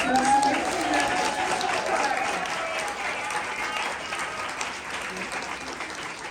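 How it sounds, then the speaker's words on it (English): Continuous applause from a gallery audience following a performance, a thick, steady wash of many hands clapping with some faint voices underneath, holding at an even level throughout. "More round of applause"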